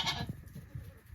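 Goats bleat in a short quick burst while being herded, a brief close cry followed by low shuffling and faint calls.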